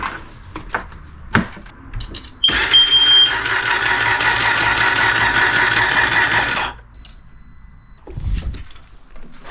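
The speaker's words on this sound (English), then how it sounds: "So we'll turn the engine over," A car engine cranked over by the starter with its spark plugs removed, a steady whirring churn lasting about four seconds, close by, with clanks and handling noises before and after.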